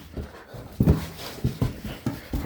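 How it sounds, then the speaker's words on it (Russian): A young shepherd dog pants in quick bursts, with soft whimpers mixed in, close by in an outdoor garden plot, several uneven breathy pulses across a couple of seconds. "Собачку ихнюю снимаю."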